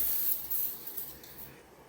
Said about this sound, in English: Let's spray these up good here.